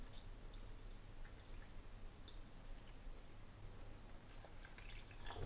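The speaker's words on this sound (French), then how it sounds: "on va commencer à additionner avec un peu d'eau" Water is poured into a blender holding almond and bread mixture for ajoblanco cold soup, making a soft, continuous trickling and dripping sound, quiet and close.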